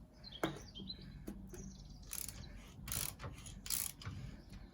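A tap cutting through damaged threads after a seized bolt has been removed, giving intermittent metallic creaks and squeaks with scraping bursts as the tool is turned, close and fairly quiet.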